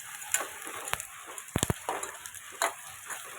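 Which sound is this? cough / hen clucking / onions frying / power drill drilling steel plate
onions frying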